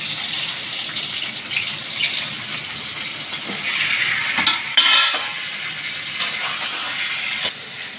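Tuna pieces coated in salt, turmeric and chili powder fry in hot oil, giving a steady, bright sizzle with scattered crackles and pops throughout and no talking.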